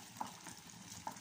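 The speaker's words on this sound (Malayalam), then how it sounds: "നമുക്കിത് ഒന്ന് ഇളക്കി കൊടുക്കാം." Carrot halwa being stirred in a pan: a faint, soft bubbling sizzle with a couple of light spoon taps in a short moment.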